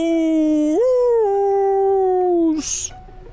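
A dog howls in the KFC dating sim video game I Love You, Colonel Sanders!: one long, loud, sustained cry that lifts in pitch partway through, then cuts off into a brief noisy burst before a quieter tail.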